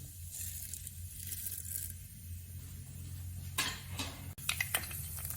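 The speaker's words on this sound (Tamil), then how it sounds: "எண்ணெய் சூடாயிட்டு அதில் நம்ம கடுகு, உளுத்தம்பருப்பை போட்டுருவோம்." Crackling and popping of mustard seeds and urad dal sputtering in hot oil, a steady sizzle broken by scattered sharp pops, heard close and alone.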